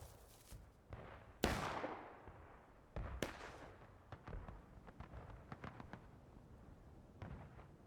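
Musket volleys and scattered gunfire crack across a Civil War battle in the game War of Rights at Miller's Cornfield, with one heavy close blast early on and repeated sharper shots trailing off in the distance.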